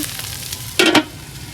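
Pumpkin bhaji frying in a pan, a soft steady sizzle broken by a brief louder scrape or clatter, close by with no talking.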